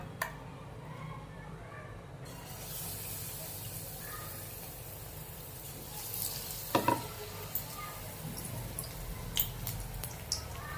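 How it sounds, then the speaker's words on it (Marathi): Colocasia leaf fritters fry in hot oil with a steady sizzling hiss, joined by sharper crackles and stirring clatters partway through, close and fairly quiet. "हे आळूच्या पाण्याचे काप केलेले आहेत ते आता आपण तळून घेऊया"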